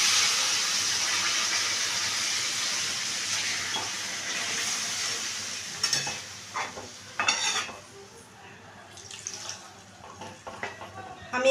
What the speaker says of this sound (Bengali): আমি এখানে পরিমাণ মতো জল দিয়ে দিলাম